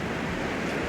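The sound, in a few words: wind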